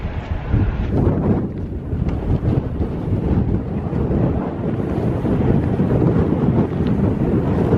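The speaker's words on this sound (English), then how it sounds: "I was gonna hang out on that side of the trailer just to avoid the wind, but it's impossible." Strong wind beside a truck trailer roars and buffets the microphone continuously, a loud, dense, rumbling gust noise with no pauses throughout.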